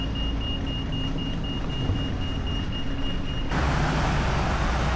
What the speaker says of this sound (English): There is a lot of traffic coming through here.